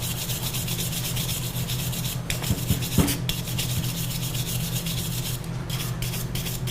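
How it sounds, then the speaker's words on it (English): A metal gear is scrubbed to remove a sticky coating, giving steady, close rasping and rubbing strokes with a couple of sharper knocks partway through and no talk. "I'm going to scrub up the coating that was kind of sticky on here."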